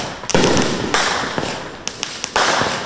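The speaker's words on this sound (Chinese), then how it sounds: "烟火绽放，点亮夜空。" Fireworks burst in the night sky during Independence Day celebrations, a run of sharp, loud bangs and crackling pops, some spaced apart and others in quick clusters.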